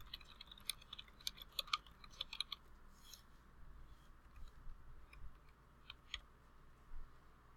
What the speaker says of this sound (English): So just one by one, I would come down here and just start typing